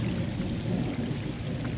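Floodwater after heavy rain runs through a flooded yard and over a garden, making a continuous close rushing and pouring wash that stays even with no voices.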